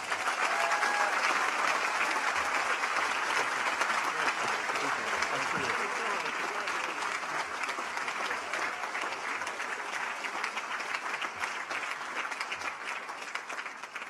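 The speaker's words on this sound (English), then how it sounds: "Let's give him another round of applause." Sustained applause from a commencement audience at the Boys' Latin class of 2025 graduation, a dense, steady clapping that fills the room at full strength and eases off only slightly toward the end.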